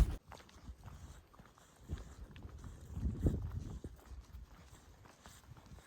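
Goats running along the Appalachian Trail, their hooves making soft, irregular clip-clop footfalls on the ground that swell to a louder cluster partway through before thinning out, with outdoor background noise throughout.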